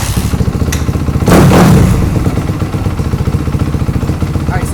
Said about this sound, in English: you're going to be able to hear the engine